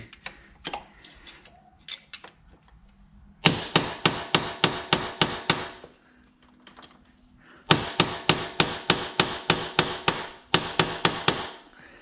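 A chain sprocket on a Yamaha Banshee ATV is hammered forward in two close, loud runs of about eight evenly spaced metallic blows each, with scattered lighter taps before and between.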